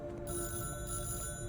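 A telephone rings in a horror video game, its bell tone repeating in short bursts at steady volume over a low background hum, with no voices.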